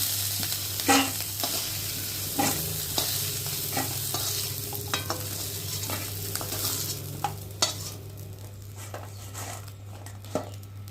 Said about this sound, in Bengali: কাঁকড়াগুলো ভাজা ভাজা হয়ে গেছে।